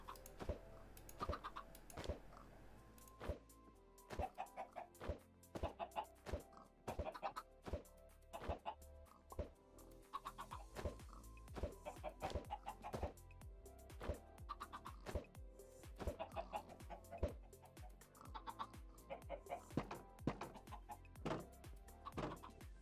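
Minecraft chickens clucking in a small coop, a dense run of short overlapping clucks and game clicks, fairly quiet and continuous with no talk.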